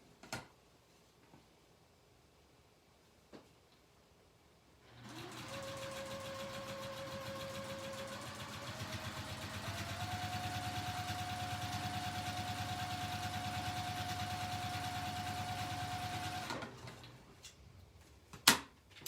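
A sewing machine stitches along a seam of fabric in one steady, continuous run of about twelve seconds, starting and stopping abruptly, with a clear mechanical hum close by and quiet surroundings before and after.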